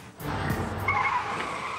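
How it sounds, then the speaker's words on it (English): Tires squeal in a sustained, rising screech over a steady car engine roar, loud and close. "Oversteering, she quickly loses control of the car."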